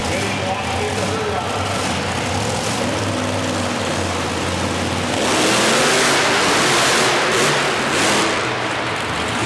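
A monster truck engine roars continuously at a racing event, then the pitch and intensity shift as the throttle eases off, with crowd noise and a voice over the top.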